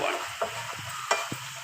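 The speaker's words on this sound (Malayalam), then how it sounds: "ഞാൻ ഈ കടുക് വറുത്തതിലോട്ട് ഇടാൻ പോവാണ്." Green chillies hitting hot oil with fried mustard seeds give a steady close sizzle, with a few short sharp pops and crackles as the chillies go in, and no one talks over it.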